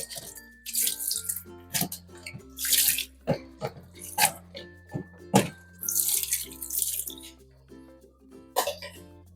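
Corn being washed under running water from a tap, splashing and gurgling in uneven bursts with several coughs and throat clearing mixed in, close by.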